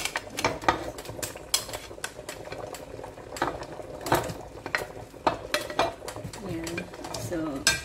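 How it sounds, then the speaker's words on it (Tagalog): Potato pieces go into a pot of Irish stew with carrots, giving close, irregular clunks, scrapes and stirring knocks against the pot over a soft bubbling simmer. "Lalagay ko ngayon yung patata."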